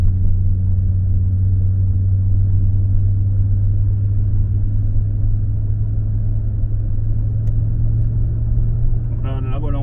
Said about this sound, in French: on va commencer à entendre le 5 cylindres chanter si je monte un peu dans les Ah, tours